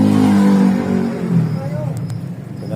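A motorcycle engine revs up close and loud, its droning tone rising and falling before settling into a lower idle.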